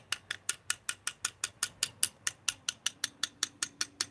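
Vice grips sprayed with WD-40 being worked open and shut, giving a steady run of about twenty crisp, evenly spaced metallic clicks at close range, with no talking.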